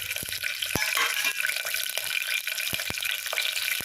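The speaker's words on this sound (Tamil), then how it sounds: "இப்போ நல்லா பொரிஞ்சு நல்லா வெடிஞ்சு நல்லா வருது" Whole spices crackling and spluttering in hot ghee and refined oil for a Tamil venpongal dish, a steady close sizzle with sharp pops scattered throughout.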